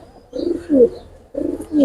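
A female Teddy and Golden cross pigeon cooing close up, two short rolling coo phrases with a pause between, loud and clear.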